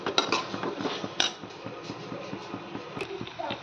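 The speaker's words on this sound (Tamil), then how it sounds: "இப்போ நல்லா கிண்டி விட்டுக்குருவோம்." Chicken curry with coriander and chilli powder being stirred in a pot, with a spoon clinking and scraping against the metal in a steady rhythm and a few sharper knocks.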